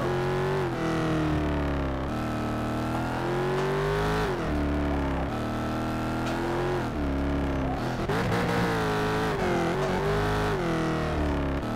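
Race car engine in the Need for Speed Shift 2 Unleashed video game, a loud continuous drone whose pitch climbs and drops through repeated gear shifts as the car drives, alone with no talk.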